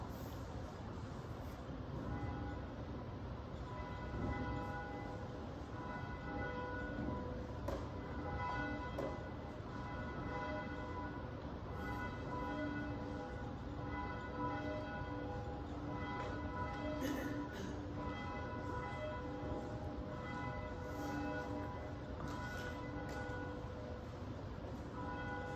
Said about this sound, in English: ringing of our bell